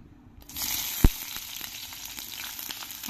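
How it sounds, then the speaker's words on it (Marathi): Chopped onion hits hot oil in a wok with a sharp clack, then sizzles in a steady bright hiss close by, faint stirring ticks under it and no talking. "आता चिरलेला कांदा परतूया"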